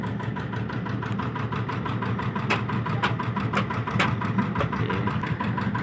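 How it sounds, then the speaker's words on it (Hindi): A Tata 75 HP generator engine, from a Tata 709, runs steadily and close by at a borewell site, its continuous rumble carrying a few sharp knocks along the way. "75 HP का जनरेटर है टाटा का, टाटा 709 का।"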